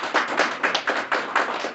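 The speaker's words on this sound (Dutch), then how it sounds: "Applaus voor Diana" Applause from an evening lecture audience for the moderator, a steady rhythmic patter of many hands clapping at close range, loud and continuous with no talk over it.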